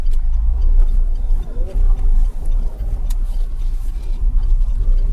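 Interior of a manual-transmission car moving slowly on a road, engine rumbling steadily with small dips as the clutch is pressed and gears are shifted from first into second, with faint ticking in the cabin.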